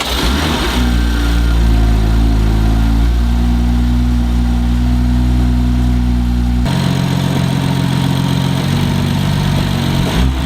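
A BMW M2 F87 with a newly fitted VRSF intercooler and charge pipe cranks and fires up close by, then holds a loud, steady, rumbling idle for the rest of the clip with no talking.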